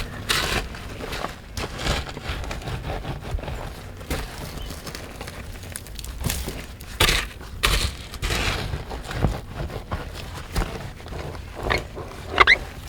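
Dirt is scooped in a dig where glass pieces clink and crunch as the tool scrapes, giving irregular close scraping bursts repeated over several seconds.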